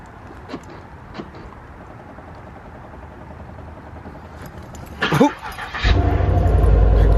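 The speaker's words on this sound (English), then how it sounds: "let's get us a little cold start" A 2006-09 Chevy Impala SS cold-starts, its engine cranking and firing near the end, roaring up to a loud, steady idle after a quiet stretch with a few faint knocks.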